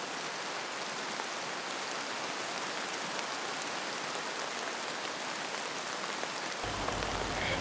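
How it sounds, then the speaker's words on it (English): Heavy rain pours down steadily on an African savanna, a thick unbroken hiss of drops that grows slightly fuller near the end, with no voices. "If the rain doesn't let up soon, they will be in trouble."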